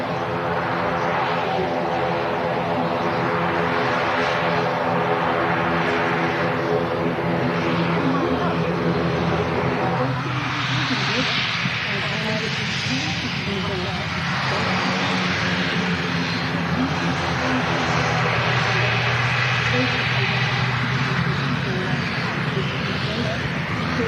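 An ATR turboprop airliner arriving from Dublin, its loud droning engine roar filling the whole stretch, swelling midway as it passes near, with a person talking over it at times.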